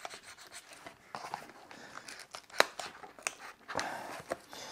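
A sharp knife cuts off a plastic mechanism from a 3D-printed part, making close, quiet scraping and snapping cuts in short uneven bursts, with one sharper click midway.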